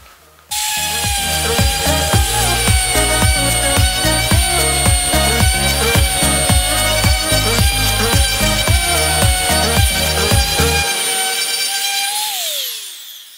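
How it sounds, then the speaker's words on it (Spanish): A power sander whines steadily and close on wood from a disassembled pallet, its motor pulsing in a quick regular rhythm for about ten seconds before winding down. "Vamos a lijarlo y vemos cómo queda finalmente."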